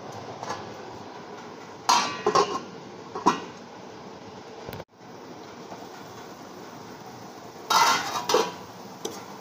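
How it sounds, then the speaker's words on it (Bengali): A lid is set down over a cooking pan of potol and prawn curry on a stove at medium gas, giving a few sharp metallic clatters early on and again near the end against a steady low background hiss. "এবার ঢাকা দিয়ে রাখবো কিছুক্ষণের জন্য"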